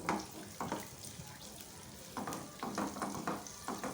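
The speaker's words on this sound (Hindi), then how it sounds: "फ्रूट्स को हम भूनेंगे।" Dry fruits roasting in a pan: faint sizzling with scattered scraping stirs and light clinks at irregular intervals, quiet and close, with no talking.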